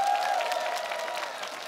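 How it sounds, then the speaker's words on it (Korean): Audience applause fills the hall at a Korean trot music concert show in Jincheon, a steady dense clapping from a large crowd with no talk. "뜨거운 박수 부탁드리겠습니다."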